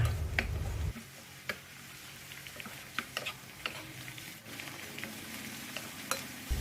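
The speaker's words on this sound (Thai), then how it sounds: "เราก็จะใส่เต้าหู้ลงผัดให้เข้ากันค่ะ" Tofu stir-fried in a sizzling wok with a simmering sauce, steady frying hiss broken by sharp scrapes and clicks of a utensil against the pan, close and without any voices.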